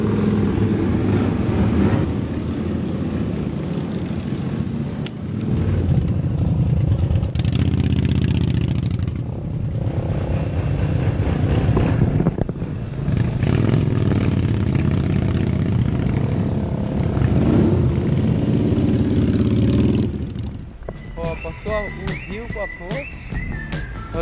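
Motorcycle engines idle and rumble at a motorcycle meet in Rio Negrinho, Santa Catarina, a loud continuous low drone with surges and shifts for about twenty seconds before dropping away to quieter background sounds.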